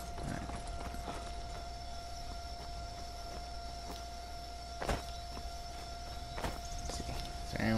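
Horses walking in a video game: a steady clip-clop of hooves at a slow, regular pace over a constant background hum, with sharper knocks now and then.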